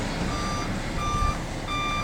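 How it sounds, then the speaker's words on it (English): A commercial van's reversing alarm beeps steadily in a repeating pattern over a low engine rumble, fairly close. "this beeping is actually a better way of backing up safely"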